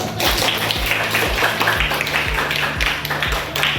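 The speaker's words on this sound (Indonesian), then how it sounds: "Tepuk tangan dulu." Students in a classroom clap together in a brisk, rhythmic burst, close and fairly loud, with a low hum underneath and some voices mixed in.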